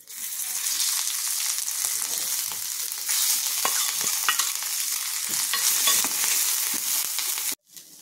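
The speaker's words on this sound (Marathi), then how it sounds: "तेल तापलं की आपण त्यात टाकूया मोहरी, हिंग आणि आपण जे वाटण करून घेतले ते वाटण आणि थोडासा कढीपत्ता" Mustard seeds, asafoetida, spice paste and curry leaves fry in hot oil with a loud, continuous sizzle and crackle, stirred now and then. The sizzle stops abruptly just before the end.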